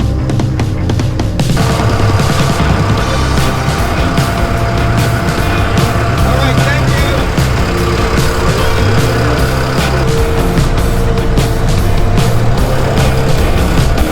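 A Kia K5 car being moved, its engine droning loudly and continuously with shifting tones and rattling mechanical noise, close by and without voices.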